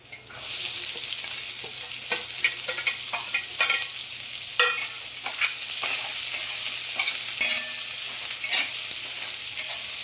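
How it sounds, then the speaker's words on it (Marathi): Finely chopped onion frying in a pan for a spicy capsicum dish, a constant close sizzle broken by repeated clattering stirring strokes. "आता बारीक चिरलेला कांदा टाकून घ्यायचा आहे."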